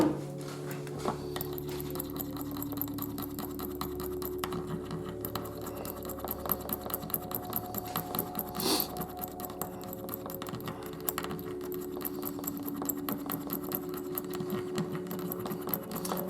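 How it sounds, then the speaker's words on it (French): A Tamiya paint pot being stirred with a stirrer while painting an ICM 1/24 Opel Admiral Saloon model kit, giving rapid light clicking and scraping taps over a steady low hum, with no talking. "je les remue avec le touilleur"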